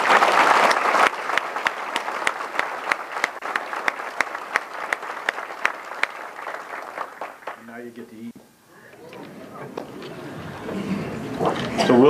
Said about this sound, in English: A big round of applause for everybody here.